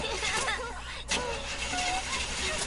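A car engine in the video game Dead Rising, with the car out of gas, cranks and turns over without catching, a continuous mid-level churn with a brief break partway through and faint voices beneath.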